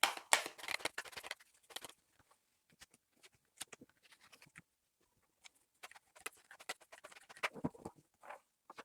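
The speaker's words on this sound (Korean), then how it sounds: "오늘 리딩할 카드 먼저 셔플하고 스프레드부터" Tarot cards shuffled by hand make soft, irregular riffling and slapping patters close by, in quiet bursts separated by brief gaps.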